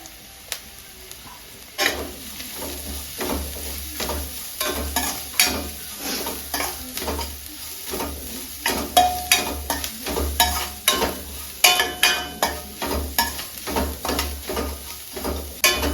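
Grated coconut being stirred into a sizzling frying pan while making kadle avalakki, with a quiet start and then rhythmic spatula scrapes and knocks over a steady fry.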